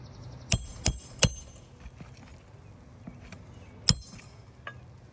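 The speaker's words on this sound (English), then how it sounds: "now that I'm making these hammer hits, I'm seeing and hearing a lot of granules shed off of this slope from the vibrations of the hammer hits" Hammer driving roofing nails into a sloped shingle roof during a repair, with four or five sharp, loud strikes spaced irregularly against a low background hum, followed by fainter taps.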